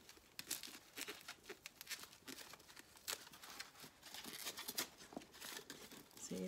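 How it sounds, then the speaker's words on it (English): Thin plastic wrap crinkles and tears as it is peeled from the small dark copper metal rings of a Coach Chaise crossbody handbag, a close, continuous rustling with uneven bursts and no talking. "Oh, they've got plastic wrap around the little rings."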